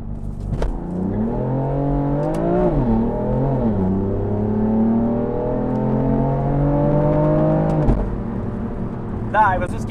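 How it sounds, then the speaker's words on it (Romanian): A 450-horsepower BMW M4 launches from a standstill on launch control. Its engine roars close and loud, the pitch climbing steadily and then dropping sharply at an upshift near the end, with voices faintly present. "O faci un launch control mai bine."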